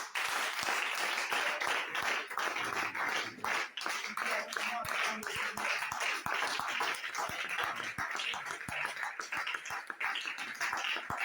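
A church congregation breaks into loud, sustained applause that fills the room, with scattered voices mixed in and no break for the full stretch.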